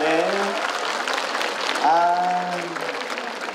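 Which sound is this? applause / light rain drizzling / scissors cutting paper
applause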